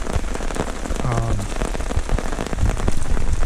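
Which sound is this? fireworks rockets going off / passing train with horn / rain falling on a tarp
rain falling on a tarp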